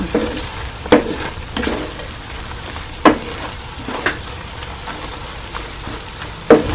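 Sardine pasta being stirred in a frying pan over a steady crackling sizzle, with a few sharp scrapes and taps of the utensil at irregular intervals, close and fairly loud, without speech.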